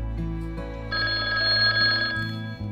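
A telephone bell rings steadily and loudly for about a second, set against a sustained background tone, with no talking over it.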